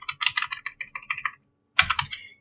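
Fast typing on a computer keyboard while writing code, two bursts of crisp, close key clicks separated by a short pause, with no talk.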